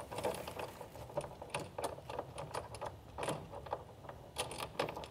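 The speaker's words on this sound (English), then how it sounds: "And then we just thread this bolt." Bolt being threaded by hand into a tonneau cover clamp on a 2022 Ram 2500 truck, giving faint, rapid ratcheting clicks and metallic ticks in a steady run.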